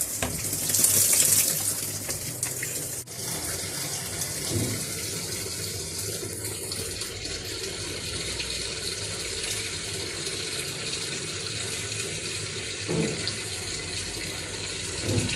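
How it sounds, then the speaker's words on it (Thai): Water runs steadily into a Samsung WA85G5 top-loading washing machine, a continuous hissing inflow that holds at an even level for the whole stretch with no talking. "โอเคน้ำเข้านะครับ เดี๋ยวรอน้ำเต็มสักพักนึง"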